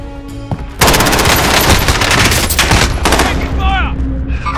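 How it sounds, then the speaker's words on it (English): Sustained automatic gunfire in Call of Duty Warzone erupts suddenly after a brief quiet moment, a loud, dense rattle of rapid shots continuing to the end, with faint chirping voice-like sounds near the close. "Taking fire! Contact!"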